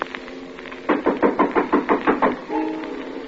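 Sound-effect knocking on a door in a vintage radio suspense drama: a close, steady series of about ten evenly spaced, hollow knocks, followed by a lingering resonant tone.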